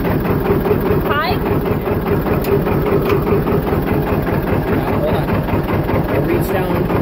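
A John Deere tractor engine idles steadily and loudly up close, a constant low rumble with wind buffeting the microphone and no breaks.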